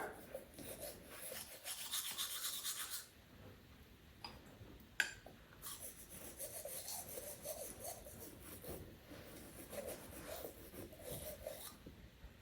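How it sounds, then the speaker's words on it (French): Steady bristly scrubbing of a toothbrush, close and fairly loud, with brief pauses and a sharp click partway through; no talking. "Il faut mouiller la brosse à dents."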